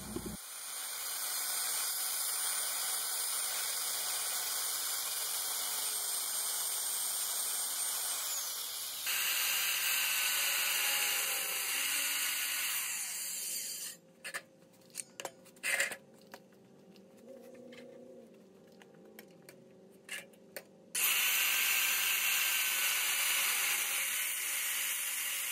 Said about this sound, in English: We used this saw to cut the straight lines